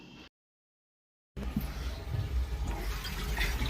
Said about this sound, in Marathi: टाकी पण भरत आली आहे